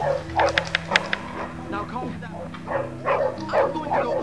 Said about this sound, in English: There is a mad dog chasing me.